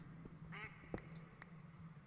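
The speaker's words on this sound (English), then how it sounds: "There's the duck again." A duck quacks in the Minecraft video game, one short burst of several quick quacks, then a few fainter clicks and blips over a steady low game hum.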